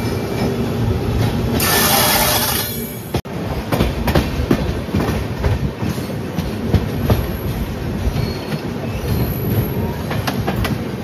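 A Secunderabad–Hazrat Nizamuddin Duronto Express passenger train runs on rails with a steady rumble and rhythmic clickety-clack of the wheels, loud and close throughout, with a brief sharp knock partway through.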